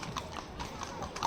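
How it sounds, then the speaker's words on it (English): Horses' hooves clip-clop on a street in Sevilla, Spain, a steady close rhythm of sharp hoof strikes. "There's a lot of horses literally everywhere"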